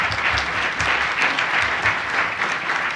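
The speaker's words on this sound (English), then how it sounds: "Let's give them a big round of applause." Loud, steady applause from a lecture audience, many hands clapping together in a dense continuous wash that holds evenly throughout with no voices.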